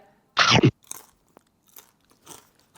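A person eats grilled frog and grilled sausage. One loud, close crunching bite is followed by softer, intermittent chewing crunches with quiet gaps between them.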